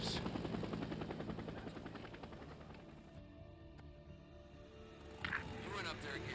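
Helicopter in the video game Days Gone, a steady rhythmic rotor chop that dominates before fading slightly, then surges again near the end, with no one speaking over it.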